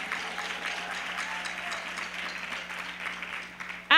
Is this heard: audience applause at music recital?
yes